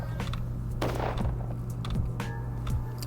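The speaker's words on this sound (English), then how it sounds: "Just the sound of gunfire everywhere and screaming and wailing and all that kind of thing." Scattered gunfire echoes through a plague-stricken town in the video game Pathologic Classic HD, with several distant shots over a constant low ambient drone and hum.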